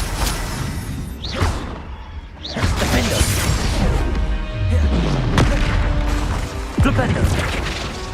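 Confringo fire-blast spells go off in the Hogwarts Legacy video game, a series of loud booming explosions with whooshing sweeps and crashing debris, layered over in-game voices and combat noise.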